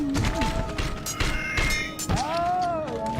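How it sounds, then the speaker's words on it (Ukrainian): Crossbow shots and impacts in the video game MediEvil: Resurrection sound as a run of thumps and thwacks with sharp clattering hits and warbling game effects. Someone speaks in between. "Ну, арбалет доволі непогано працює"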